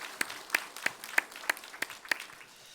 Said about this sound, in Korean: 우리 다시 한번 살아계신 우리 하나님의 영광에 박수 올리겠습니다